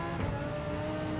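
Engine note of a car driven in the racing game Gran Turismo 7, a steady low hum with a faint whine, quiet and continuous over the short stretch with no talk.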